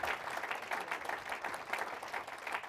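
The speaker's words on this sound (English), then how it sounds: "How about a big round of applause for our guests this evening?" An evening audience at a professional development event bursts into steady, dense applause for the guests, many hands clapping together in a sustained, moderately distant wash of sound.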